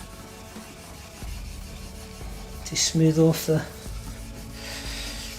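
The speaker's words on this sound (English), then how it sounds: "Just going over with some steel wool" Steel wool rubs softly and steadily against a maple guitar neck, scuffing continuing under a man's speech, with a brief louder burst of voice partway through.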